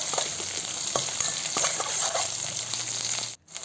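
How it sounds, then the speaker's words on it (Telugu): Onions, mustard seeds and cumin frying in hot oil, a close, continuous sizzle with occasional stirring clicks before a brief drop near the end. "అలాగే ఆవాలు 1 స్పూను, జీలకర్ర 1 స్పూను, అలాగే ఆనియన్స్ వేసుకునేసి ఫ్రై చేసుకున్నాను."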